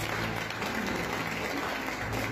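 A church congregation applauding in a dense, steady wash of clapping that fills the room evenly and loudly throughout, with no distinct voices standing out.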